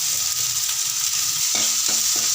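Onion and green chili frying in sesame oil, a loud steady sizzle close by with a few stirring scrapes near the end, and no voices.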